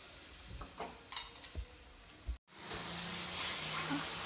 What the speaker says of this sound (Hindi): अब मैं टमाटर को अच्छी तरीके से मसालों के साथ भूनकर रेडी कर लूँगी।